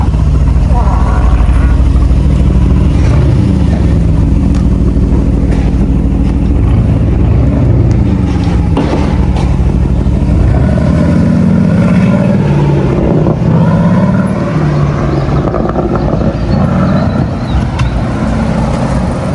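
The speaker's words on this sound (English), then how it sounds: "And that's the Aston Martin Vantage V8" An Aston Martin Vantage V8 engine runs loud and close for the whole stretch, its deep note rising and falling with the throttle while a voice talks over it.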